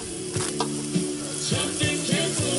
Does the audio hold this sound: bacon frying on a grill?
yes